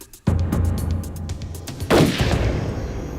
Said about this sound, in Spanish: Los agentes en el auto oyeron disparos